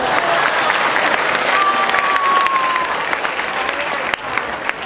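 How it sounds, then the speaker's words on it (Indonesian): A room of people clapping together at a character-building class, dense continuous applause with some scattered voices mixed in. "Ya, tepuk tangan."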